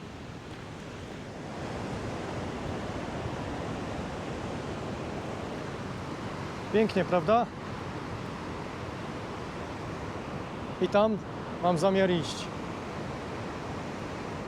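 A waterfall in the Åmotan valley, where four rivers meet, produces a continuous broad rushing roar that holds steady throughout, while someone speaks briefly in Polish over it.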